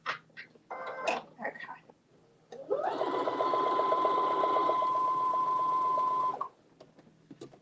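Sewing machine stitching fabric in a quilting setting, a steady rapid mechanical hum running continuously for about four seconds, loud and close, preceded by brief talk and clicks.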